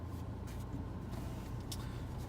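A manual car's engine idles in neutral, a faint, steady low hum with an even texture and a few soft clicks, heard alone without talk.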